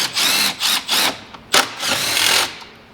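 Power tool bursts while 10 mm bolts are removed from the intake of a RAM 1500 TRX truck: several short, whirring, drill-like runs separated by brief pauses, close and fairly loud, with no talking.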